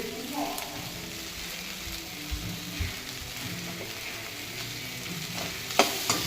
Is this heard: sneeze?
no